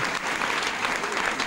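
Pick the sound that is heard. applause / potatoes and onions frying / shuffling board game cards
applause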